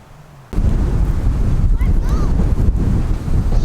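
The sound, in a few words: wind blowing outdoors on a ranch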